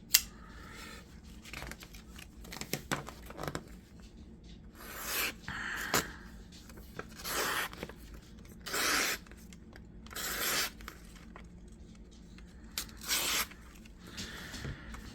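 A Vosteed Griffin knife slices through cardboard box material in a string of short, scratchy tearing strokes, some close and sharp, spaced irregularly over a quiet background with no talking.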